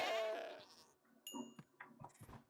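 Goat bleats from Minecraft, a long wavering cry followed by several shorter bleats and clicks, close and alone with no talk.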